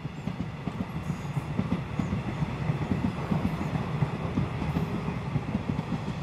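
A Rovos Rail luxury train of more than 20 carriages rolls out of Cape Town with a steady low rumble and a continuous rhythmic clickety-clack of wheels over rail joints, moderately quiet and even throughout.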